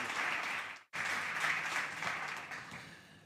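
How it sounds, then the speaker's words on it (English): Audience applause at a startup conference stage, a steady wash of clapping broken by a momentary dropout, then continuing and gradually easing off. "Big applause, people."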